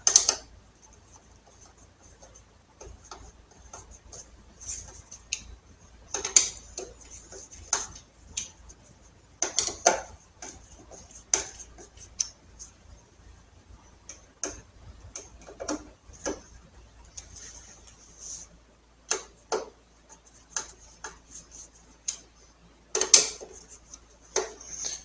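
Small screws being snugged into a Road King motorcycle's headlight bezel, heard as quiet intermittent ticks and clicks of a screwdriver, irregular and close, with scattered metallic taps over a low hum.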